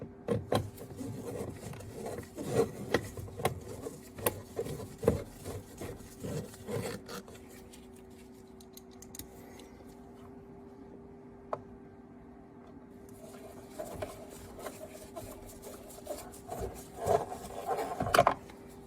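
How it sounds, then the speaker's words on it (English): Two screws driven back into the left driver-side cupholder assembly of a 2010-2015 Lexus RX350, heard as close rasping and rubbing with small ticks, busy at first and then quieter with a steady hum. "Reinstall the 2 screws."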